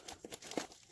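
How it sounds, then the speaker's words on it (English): Nail-mail package being ripped open by hand, a quick burst of crinkling and tearing paper or plastic, close and brief with a couple of sharp rips. "I'm gonna have to rip into it because I can't figure out no other way to get it open."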